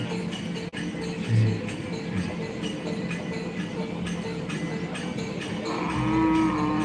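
Cattle at a Karapan Sapi bull race in Bangkalan, a low moo sounding early amid a busy outdoor crowd murmur, with a louder rising drone near the end.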